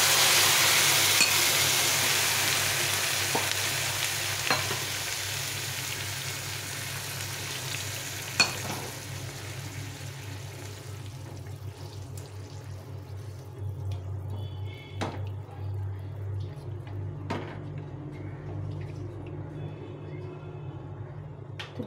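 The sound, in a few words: water added to rice cooking in a pot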